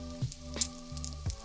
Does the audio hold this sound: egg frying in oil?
yes